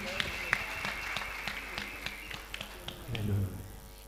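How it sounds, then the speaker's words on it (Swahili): A church congregation at a Sunday service claps for Jesus, with scattered, uneven claps over a low room hum, a few sharper near ones, and a murmur of voices beneath, swelling briefly toward the end. "Pigia Yesu makofi mazuri."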